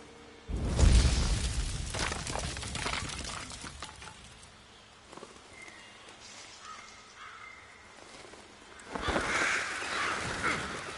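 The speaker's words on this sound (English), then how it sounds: "There goes those birds again." Crows caw harshly in a fantasy video game, with loud bursts of cawing and flapping at the start and again near the end around quieter stretches.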